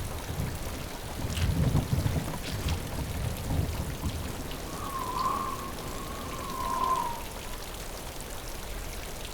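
Steady rain patters over distant rumbling thunder, with a low roll early on and a faint tonal whistle drifting through the middle of the downpour.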